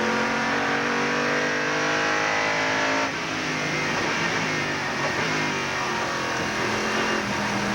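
Loud onboard engine roar from an IMSA GT race car at Sebring in 1992, with the pitch climbing through the gears, a sharp shift near the middle, then sustained high-revving drone.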